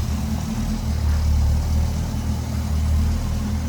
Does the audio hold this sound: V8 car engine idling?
yes